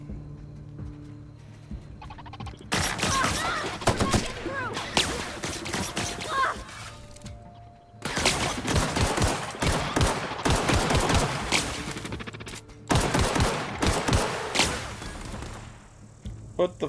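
Gunfire in The Outer Worlds, repeated loud bursts of rapid shots arriving in several clusters, with quieter gaps between them and a low game background hum underneath.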